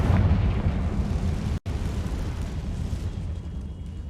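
Confringo fire spell explosions erupt in Hogwarts Legacy, a heavy booming blast with roaring, crackling rumble, cut by a brief dropout before a second sustained burst, loud and near, no voices.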